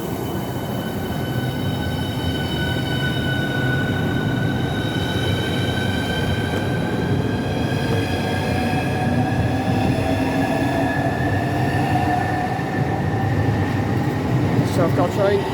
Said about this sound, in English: this one is the 1019 service to Margate, which is the one we got on from London to Pancras. It's now departing.